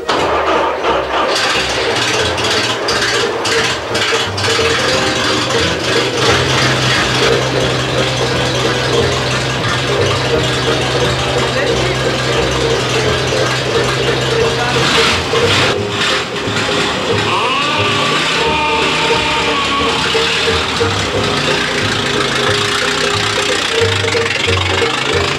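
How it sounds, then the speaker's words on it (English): A 1914 Stutz Bearcat engine cranks and catches, then settles into a loud, rough, knocking idle that runs continuously nearby, with the revs shifting partway through. "we give it some spark, and give it a little advance of throttle, and we put down the starter button"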